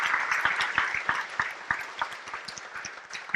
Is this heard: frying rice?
no